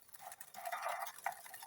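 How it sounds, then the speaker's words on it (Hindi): Oil and powdered sugar beaten together for an eggless cake batter, a busy scraping, clinking stir of a utensil against a bowl, steady and close with slight rhythmic accents. "तो यहाँ पे आप इसको अच्छी तरह से हमने बीट करना है।"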